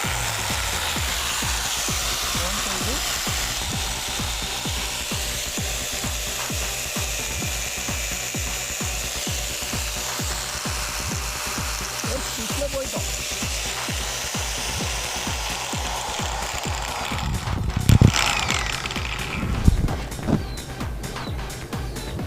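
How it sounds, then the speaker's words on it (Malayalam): Cutting machine slicing open an Android mobile phone, a steady rapid rattling grind that runs throughout at close range, with a few sharper louder bursts near the end. "അപ്പോൾ കട്ടിങ് കിടക്കാം. നമ്മളിതാ മെഷീൻ ഓണാക്കാൻ പോവുകയാണ്."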